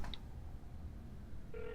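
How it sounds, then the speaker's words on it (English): A mobile phone dialing another phone: a few short electronic tones, then a steady sustained tone near the end, heard up close over faint room noise without speech. "You call your phone with my phone."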